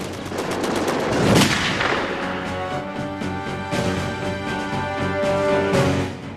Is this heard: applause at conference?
no